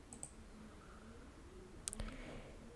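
A computer mouse clicks to save changes in Roblox game pass settings: two faint, quiet clicks, one near the start and another a little later, with no talking.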